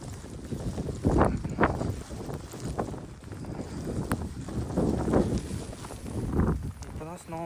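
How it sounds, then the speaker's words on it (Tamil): Strong wind gusts through a snowstorm in Canada, roaring and buffeting the microphone in a steady rush with louder surges, while a person talks over it. "அப்பா சரியான காற்று இந்த சைடில் இருந்து"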